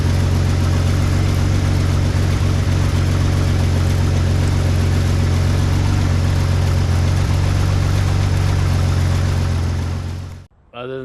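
An Isuzu Trooper engine runs loud and close with a heavy exhaust leak, a steady low rumbling drone with raspy pulsing throughout before it suddenly cuts out near the end.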